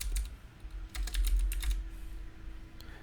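Keys clacking on a computer keyboard in a quick uneven burst of close, crisp taps, then a few sparser clicks over a faint steady hum, with no talking.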